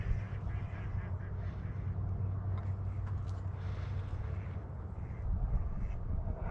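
Wild ducks quacking across open water, drakes among them, heard as a dense continuous chorus of calls at a steady level with no talk, the birds spread at middle distance.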